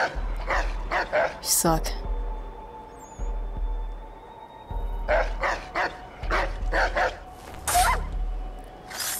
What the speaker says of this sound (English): Oh, those dogs.